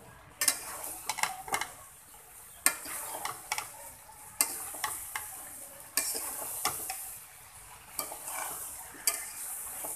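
Snake gourd and shrimp curry is stir-fried in a pan, the spatula clacking and scraping in irregular strokes over a steady sizzle, close by with no voices.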